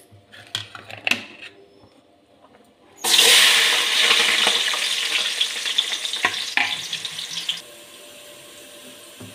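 Sliced onions drop into hot oil in a pan and burst into loud, steady sizzling after a few quiet kitchen clicks, crackling on for several seconds before easing to a softer frying hiss.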